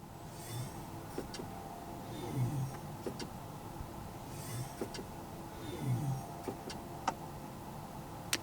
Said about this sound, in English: I think it's cool with the sounds that you have when you go into the drive modes.